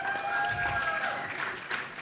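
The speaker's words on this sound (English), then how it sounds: "give yourselves a round of applause" Audience applause at a women-in-entertainment event, a short burst of clapping from a crowd that rises and then tails off, with some voices mixed in.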